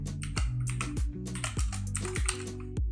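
Typing on a computer keyboard while entering text in a VS Code editor: a steady run of crisp, close key clicks with a few heavier thumps, likely the space or enter key, and no talk.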